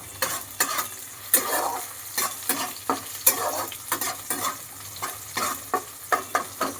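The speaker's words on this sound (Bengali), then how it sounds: "পেঁয়াজটাকে লাল লাল করে ভেজে নিয়ে তারপরে আমি লাল শাকটা কড়াইতে দেব।" Chopped onion fries in a kadai over a raised gas flame, a continuous sizzle broken by repeated scraping stirs of a spatula against the pan in an uneven rhythm.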